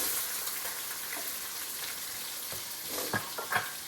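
Onion added to a hot pan where chicken was just seared for a stew, giving a steady broad sizzle with a few louder crackling pops near the end, no talking over it.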